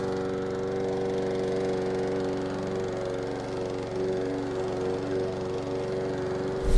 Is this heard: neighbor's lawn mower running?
yes